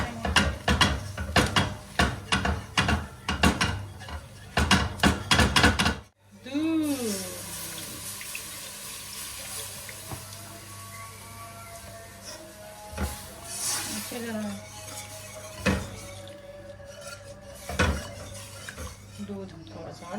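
A whisk beats two spoonfuls of flour into batter in a bowl, giving a steady rapid scraping and clinking against the bowl that runs throughout after a brief pause, with faint kitchen clatter around it.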